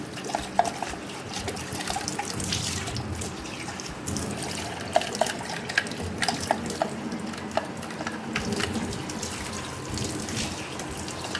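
Water runs steadily from a tap with faint splashing and light clinks of Hestia Nutri-Max cold-press slow juicer parts being rinsed, with no talking.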